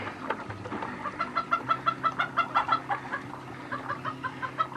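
Chickens cluck steadily in a rapid, rhythmic series of short calls, fairly close, with a low rumble underneath and no talking.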